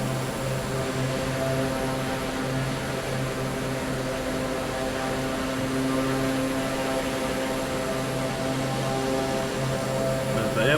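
In a flight simulator over Gippsland, Victoria, a propeller aircraft takes off and climbs, its engine holding a steady droning hum with sustained tonal whine throughout, loud and continuous.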